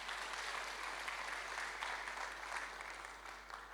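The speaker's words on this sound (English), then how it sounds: "let's give Gavin a big round of applause." Sustained crowd applause at a conference keynote, a dense steady clatter of many hands clapping that fades slightly toward the end, with no voices over it.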